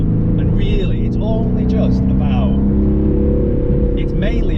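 A deep, rumbling 2021 Aston Martin Vantage V8 engine drones steadily through its exhaust, loud and close, with its pitch rising and falling slightly as it revs; a voice seems to speak over it.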